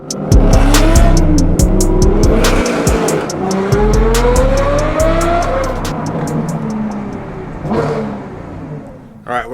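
A Lamborghini Huracán Performante accelerates hard, its engine revving loudly up through gears with sharp rising tones and crackling pops, close by, while people talk over it.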